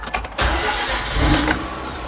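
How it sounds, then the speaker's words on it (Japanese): A Mazda rotary-engine sports car cranks and fires up: a brief starter whir, then the engine catches and settles into a loud, buzzy, close idle with a slight rev. "ちょっとエンジンかけてください。"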